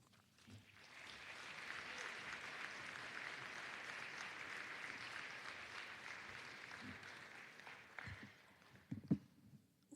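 An audience applauds at a college athletics Hall of Fame induction ceremony, a sustained wash of clapping heard from a distance in a large room, fading near the end as a few louder thumps break through.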